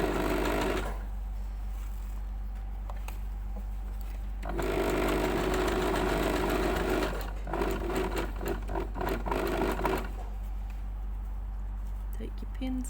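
A sewing machine stitches a fabric strap, its motor whirring in steady runs that stop and start, close and prominent, while a person talks over it.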